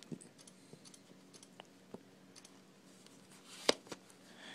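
Faint small plastic clicks and ticks from a Targus Versavu case lid on an iPad 3 switching it on and off, scattered irregularly, with one sharper, louder click near the end, close by in a quiet room.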